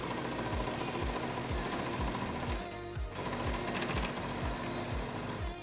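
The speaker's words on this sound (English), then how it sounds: "Sew these seams together with a straight stitch and go over it twice to make it stronger" Sewing machine running a straight stitch along bikini seams, a steady fast mechanical chatter of needle strokes, close and continuous, easing briefly midway before picking up again.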